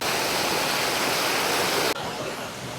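A natural mountain stream flows on the Neelkanth Mahadev trek near Rishikesh, giving a loud, dense, steady rush of water that drops suddenly to a quieter wash near the end.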